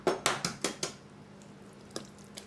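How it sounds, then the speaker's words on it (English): Cornbread dressing mixed with beaten eggs in a dish: a quick run of five close clinking, scraping utensil strokes, then a quieter stretch with a couple of lighter taps. "just mix it very good at this point when you add the beaten eggs in"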